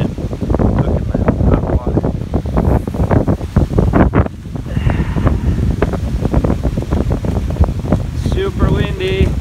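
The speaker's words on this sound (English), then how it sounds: "Super windy." Strong wind buffets the microphone in constant heavy gusts, with choppy water on Lake Superior and a voice faintly audible underneath.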